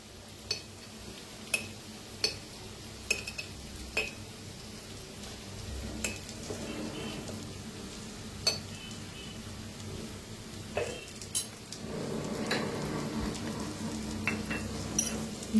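Tomato and onion masala frying in a pan, with a soft steady sizzle under repeated clinks and scrapes of a spoon stirring against the metal, quiet and close.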